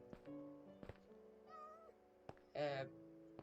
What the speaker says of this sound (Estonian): Seal on kass ka.